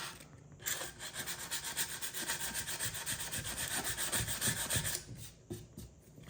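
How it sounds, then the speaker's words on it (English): Steady, gritty scraping of sandpaper rubbing back and forth over rust on a snowboard, continuous for several seconds, close and fairly loud. "the sandpaper also works"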